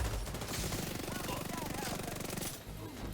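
Rapid automatic gunfire from a tank build in The Division 2, a fast, unbroken burst of shots that stays loud and close, fades briefly near the end and then resumes.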